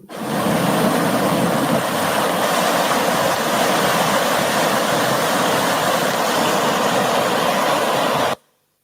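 Flood water rushes in a dense, continuous roar, loud and steady for about eight seconds before it cuts off abruptly.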